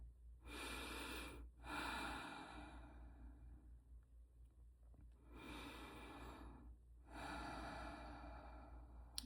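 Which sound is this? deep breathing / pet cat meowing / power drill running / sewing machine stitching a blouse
deep breathing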